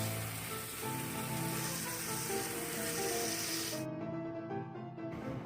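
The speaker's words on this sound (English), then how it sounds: "I'm going to brown this tenderloin in a skillet, some oil over medium heat, and I just want to sear that salt and pepper on it" Wild hog tenderloin seasoned with salt and pepper sizzles in oil in a skillet over medium heat, a steady, close crackling hiss that continues throughout with no talking.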